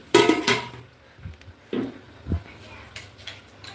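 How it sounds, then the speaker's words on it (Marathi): Cooked usal is scooped from a pan onto a plate with a few sharp metallic clanks and scrapes, followed by quieter taps and clinks, with faint voices in the background. "आता उसळ मी प्लेटमध्ये काढून घेते तिला"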